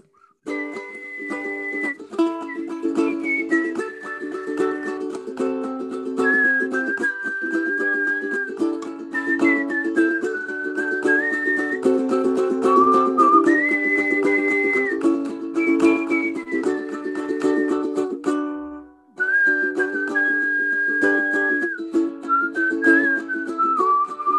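Someone whistles a song melody, clear sustained notes gliding between pitches over a steady accompaniment of strummed chords, continuous and close for the whole stretch, with one brief dip near the end and no talking.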